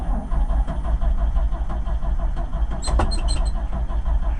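A 1965 International R185 truck's engine cranking on a cold start after being flooded, a loud continuous rhythmic churn of the starter turning over without catching, close by, with a brief rattling clatter near the end.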